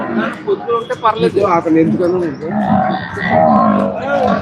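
Calves bleat and low in a busy livestock market yard at Erragadda, their calls overlapping with people talking nearby.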